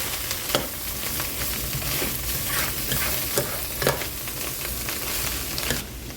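Cauliflower pork fried rice being stirred in a hot pan, with steady sizzling and frying and repeated scraping clicks of the utensil against the pan, close and continuous with no talk.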